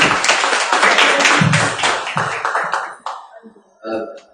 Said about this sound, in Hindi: जोरदार ताली अशोक जी की।